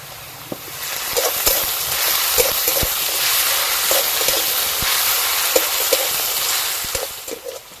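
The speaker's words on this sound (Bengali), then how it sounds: "পেঁয়াজের সঙ্গে আদা রসুন ভালো করে ভেজে নিয়েছি।" Steady, loud sizzling of onions frying in oil with ginger and garlic paste, with spatula scrapes and stirring clicks scattered throughout.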